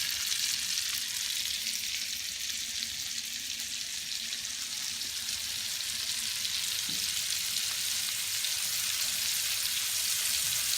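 Fillet steak frying fatty side down in butter, a dense, even sizzle that holds steady and close throughout with no voices, a faint clink of the pan partway through.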